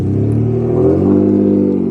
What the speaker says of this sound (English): This is what a V6 Matiz sounds like.